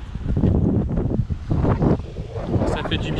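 A sailboat running under sail near Port-Miou and Morgiou, with gusty wind buffeting the microphone and water rushing along the hull, loud and steady throughout, with a few faint voices mixed in.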